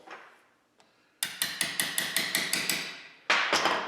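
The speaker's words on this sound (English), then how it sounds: "I like to take a ball peen hammer and finish it" Ball peen hammer striking a chisel on Model T Ford transmission parts: a steady run of about ten sharp metallic blows, close and ringing, then a couple more heavy strikes after a short pause.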